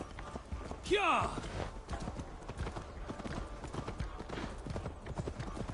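Hooves of a horse in the video game Assassin's Creed Valhalla clip-clop steadily through the whole stretch, with a brief whinny near the start and voices speaking over it.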